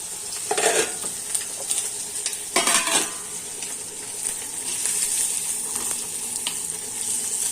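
Food fries in a pan with a soft sizzle while a utensil stirs and scrapes, giving a few clattering bursts over a steady background hiss.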